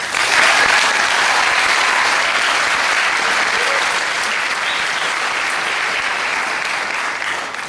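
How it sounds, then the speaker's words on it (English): Audience applause for high school football athletes at a Northside Grizzlies signing day, steady dense clapping that stays loud throughout and fades slightly toward the end. "I want you to give them a round of applause."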